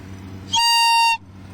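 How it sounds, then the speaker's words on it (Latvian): A fog horn sounded as a demonstration gives one steady, bright, reedy blast of about half a second. It is loud and close and starts and stops abruptly over a low background hum. No speech. "Es domāju, ka skatītājiem pietiekami skaidrs, kas ir tagad miglas taure."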